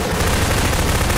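Dense, loud gunfire in the Garry's Mod horror map Core Outbreak, a continuous roar of shots filling the whole moment with no talk over it.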